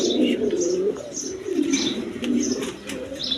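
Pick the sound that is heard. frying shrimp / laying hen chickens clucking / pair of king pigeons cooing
pair of king pigeons cooing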